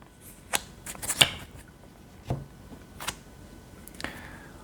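Tarot cards being shuffled and handled during a Korean fortune-telling reading, heard as a few quiet, crisp flicks and slaps spread apart in a hushed room.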